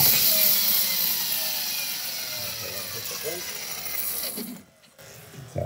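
RC monster truck with a brushless system: a close, high whirring drivetrain with ratcheting mechanical noise as the clutch engages, briefly dropping out near the end.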